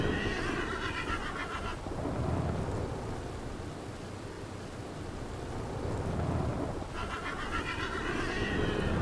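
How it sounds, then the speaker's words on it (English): A spooked horse in the Western roleplay game RedM whinnies loudly in two long bursts at the start and end, with a rumbling storm and rain filling the middle. "It spooked my horse."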